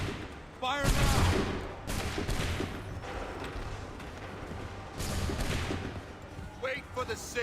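A volley of musket gunfire in Assassin's Creed 3, loud sharp bursts followed by crackling shots and rumbling battle noise, with shouted voices over the din.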